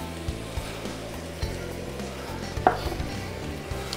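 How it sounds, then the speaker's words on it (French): Vinegar deglazes a hot pan for Flemish carbonade, giving a steady hissing sizzle with one sharp utensil clink partway through and no talking. "Donc, on va déglacer."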